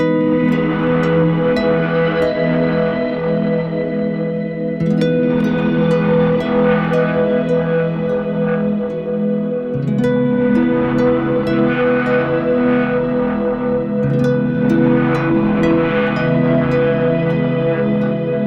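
Sustained electric guitar chords drenched in lush, washy reverb, notes ringing and blending into a continuous shimmering wash.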